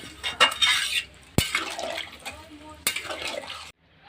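Water is poured into a pan of sautéed bottle gourd and potato, with splashing bursts and clinks of the pan; a voice speaks quietly in between.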